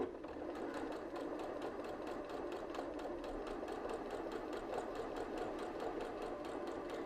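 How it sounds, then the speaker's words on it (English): A sewing machine stitches fabric for gathering with a fast, steady mechanical whir and rapid needle ticking, close and continuous with no talking. "we are just gonna go ahead and start stitching."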